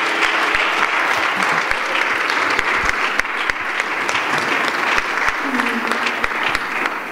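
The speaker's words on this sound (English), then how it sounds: "Give the Lord a clap offering" A church congregation gives a clap offering, a steady, full-room applause that holds for several seconds, with a voice rising briefly near the end.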